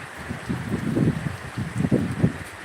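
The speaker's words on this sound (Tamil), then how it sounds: "சரியான மழை" Heavy rain pours down over rice paddy fields in an uneven hiss, with gusty bursts of wind noise against the microphone. There is no talk.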